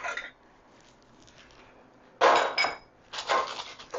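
A metal baking pan with cut cookie dough clanks and clatters on a hard surface in two short close bursts after a quiet stretch, with no talking.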